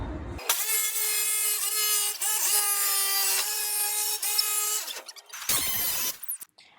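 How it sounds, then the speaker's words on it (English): A power tool saws a window opening through a camper van's metal body panel, a loud continuous rasping buzz with short stutters at each stroke, cutting off near the end before a brief final burst. "the first window is being cut out"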